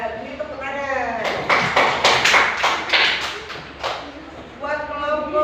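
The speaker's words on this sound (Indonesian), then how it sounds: "Ini tepuk tangan." A class of students claps hands in a short burst of sharp, fairly close claps, set between stretches of speech from people in the room.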